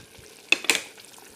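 Fish pieces fry in a pan for a fish curry, with two quick, close bursts of sizzling over a quiet background.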